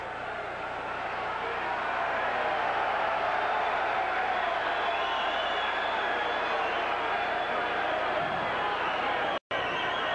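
A boxing arena crowd at a heavyweight bout roars in a sustained, broad wall of cheering and noise, loud and continuous, with a brief dropout near the end.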